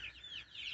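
Hens clucking inside a backyard hen house, a soft continuous run of chatter and short calls, close and moderately quiet with no talk.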